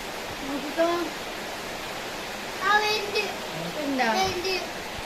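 Rainwater runs steadily outside a house in a continuous broadband wash, with a voice and other voices speaking over it at moments.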